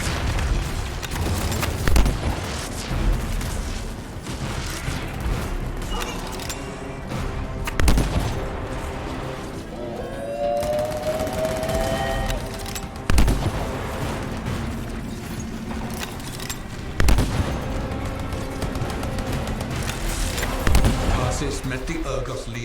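Sniper rifle gunfire in the video game Anthem, several sharp booming shots spaced a few seconds apart amid a busy battle mix of effects and music, with someone talking over it.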